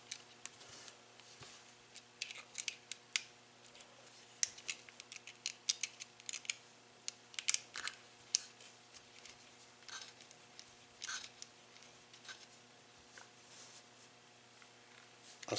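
A screw is driven into a rifle part, with faint, irregular small ticks and clicks scattered over a quiet background, close up and without talk.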